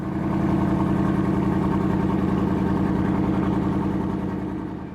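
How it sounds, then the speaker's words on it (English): An American convertible's V8 exhaust burbles at a steady low idle, a close, rich rhythmic rumble held evenly for several seconds with no voices. "Listen to that burbling V8 exhaust note."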